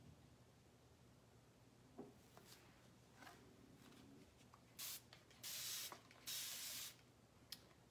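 Several quick hissing spray bursts from a spray bottle onto tissue paper, short puffs at first and then longer sprays, close and clear against a quiet background.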